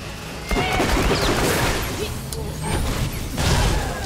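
Grenade blasts in the video game Borderlands: The Pre-Sequel, a run of loud, close, crackling explosions with rumbling bursts that swell twice across a few seconds.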